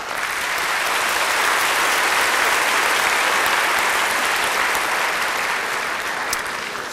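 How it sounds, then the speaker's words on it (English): Sustained, loud applause from a large graduation audience at a high school commencement ceremony, a dense even wash of clapping that holds steady throughout before easing slightly at the end, with no talk over it. "Please hold your applause to the rest of this list"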